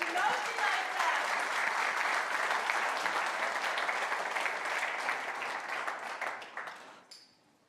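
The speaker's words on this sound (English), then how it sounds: "Round of applause." An audience at a robotics industry get-together applauds a speaker coming on stage, steady dense clapping that holds for several seconds, then tapers off and fades out.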